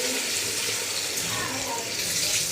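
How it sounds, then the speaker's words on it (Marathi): Hot water is poured into a pan of simmering vegetable curry, giving a steady close rush of splashing water over a faint bubbling boil. "त्यानंतर मी हे पाणी गरम झालेलं यामध्ये सोडणार आहे।"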